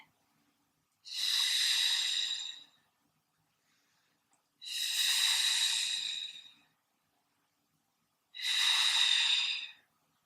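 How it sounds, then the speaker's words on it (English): Three slow, deep breaths taken during a Pilates hold in a shoulder mobility and strength workout. Each is a long, breathy rush of air lasting about two seconds, with short quiet gaps between them, close and clear, and no talking. "we're just going to hold here for 3 breaths"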